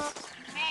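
A flock of sheep bleats in a cartoon soundtrack, a short burst of overlapping calls that stays fairly loud throughout, mixed with a voice-like layer.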